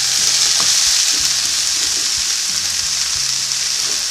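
Vegetables stir-frying in a pan with celery added on top, making a loud continuous sizzle and hiss with soft stirring knocks.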